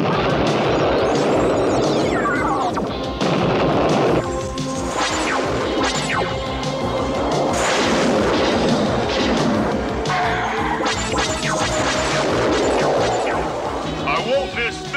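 Torpedo explosions and impact crashes in an action video game, loud and dense throughout with booming blasts, screeching effects and layered music under continuous game noise.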